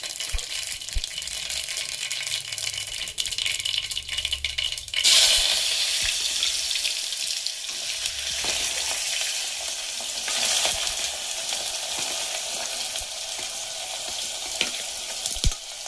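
Mustard seeds, cumin and potato pieces frying in oil in a pressure cooker crackle and sizzle steadily and close by, with a louder burst around five seconds as food hits the oil, plus occasional stirring rattles.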